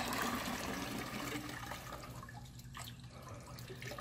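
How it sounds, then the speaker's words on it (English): Leftover water from a filter housing pours and splashes into a bucket, a loud gurgling rush at first that thins into softer trickles and drips. "go ahead and empty out the remaining water into the bucket"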